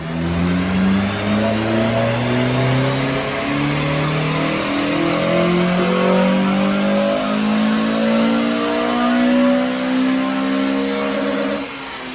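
Honda Civic Type R FN2 with a K20 VTEC engine on a dyno power run at a Honda meet, revving hard and loud for about twelve seconds through rising gears, alone with no talk.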